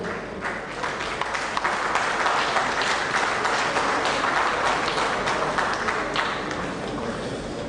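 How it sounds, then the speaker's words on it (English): Sustained applause from a large audience at a Lagos Day celebration event, steady and dense throughout without a break. "A bigger applause for Honorable Oladele Ajayi"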